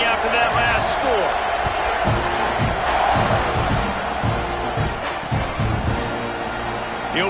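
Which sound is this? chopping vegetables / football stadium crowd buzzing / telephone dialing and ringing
football stadium crowd buzzing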